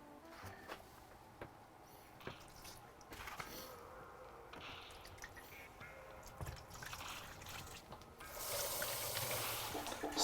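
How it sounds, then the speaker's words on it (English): Darkroom photo chemicals poured into trays, a faint liquid trickle and dripping with small clinks, swelling into a steadier pour near the end. "let's pour the chemicals and get started"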